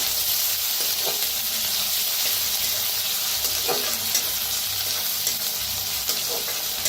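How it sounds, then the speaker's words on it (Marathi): Ground green chili, garlic and cumin paste fries in hot oil for a safflower-leaf vegetable dish, a loud, continuous sizzle with occasional stirring scrapes close by. "वाटण टाकूया जे आपण हिरवी मिरची, लसूण, जिरं चेचलेलं। भाजूया।"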